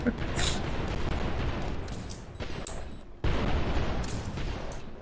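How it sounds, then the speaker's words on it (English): Video-game fireworks being launched during a base battle, bursts of dense crackling booms and sharp pops in two loud clusters with a short drop between them, under game noise. "See, shooting fireworks for you."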